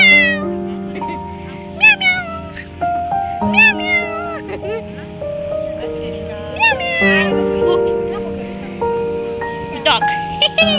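Several cat meows come through clearly in a home setting, repeating in short rising calls at intervals over steady background hum, with people talking nearby.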